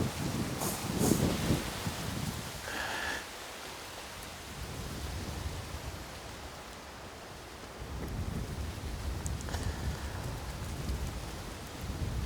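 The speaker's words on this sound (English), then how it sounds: "That's a windy one." Gusty wind roars through the trees around a hunter's tree stand in the New Hampshire mountains, surging loud at the start, easing in the middle, then building again in broad rushing waves with no voices.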